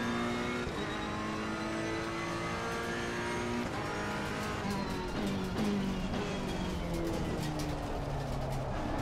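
Racing car in a sim racing video game accelerating through the second kink of a turn while struggling with understeer, engine tone rising and shifting steadily over several seconds, loud and continuous with no talk.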